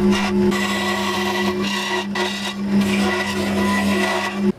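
A scroll saw hums steadily with a sustained tonal whine while its blade rasps through wood, with brief pauses, then stops abruptly at the end.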